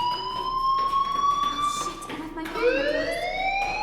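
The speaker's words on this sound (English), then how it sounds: "Hey, do you hear that fire alarm?" Fire alarm ringing in the video game Life is Strange, a steady electronic tone with bright harmonics, then a rising, swooping electronic tone toward the end, under faint background sound and some talk.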